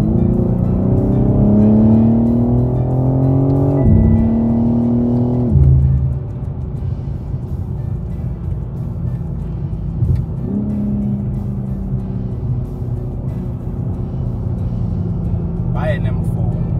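A 2024 BMW M4 Competition drives through Cape Town, its engine droning steadily and rising in pitch as it accelerates, shifting gears around the fourth and sixth seconds, then settling into a steady cruise. A voice speaks over the engine.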